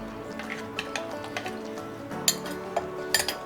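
Utensil clinking against a bowl as beaten egg is mixed into a masala batter for egg toast, with light scattered taps and soft wet stirring sounds, fairly quiet.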